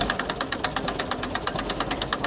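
A tractor engine runs at steady idle with a rapid, even knocking pulse, loud and close, with no talk over it.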